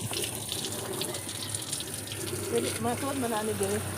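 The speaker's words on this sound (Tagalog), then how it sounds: "Yan, at ito ay lalagyan natin ng tubig." Water from a hose fills the tub of a twin tub washing machine, a steady close gushing flow throughout, with a voice speaking briefly near the end.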